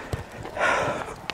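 A horse on a trail ride gives a snorting blow in the middle of a brief stretch, with a few soft hoof thuds around it, close and fairly loud.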